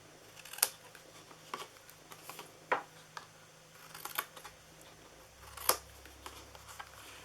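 Scissors snip through paper while shaping a small DIY gift box, a few soft, crisp cuts spaced irregularly, quiet and close over a hushed room.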